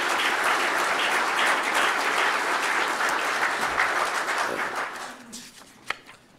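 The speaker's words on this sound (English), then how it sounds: "Let's give our library a round of applause." An audience at a city State of the City address applauds the local library: dense, steady clapping from a crowd holds for about five seconds, then thins and fades out, with one last isolated clap.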